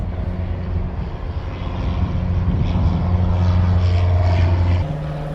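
A Cessna propeller plane circling overhead drones steadily with a constant engine note that swells a little louder as it passes, heard in the open with no talking.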